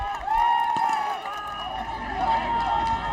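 Crowd cheering in support of Rwanda at the UAE SWAT Challenge, an outdoor competition, heard as a sustained distant roar of voices under a nearby person talking.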